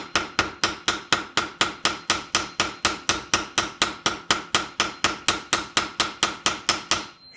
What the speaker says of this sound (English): You want the hammer to do the work for you